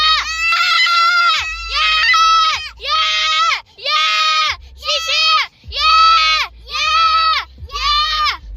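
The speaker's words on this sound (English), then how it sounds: "we're gonna scream out loud prank" Children screaming out loud as a prank, a series of about eight long, high, strained screams in a steady rhythm, loud and close, with short gaps between them.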